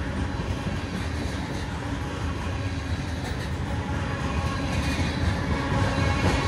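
A long freight train hauled by SD70AC locomotives rolls past, a dense continuous rumble of wheels and boxcars at close range with faint rhythmic clatter and no talk.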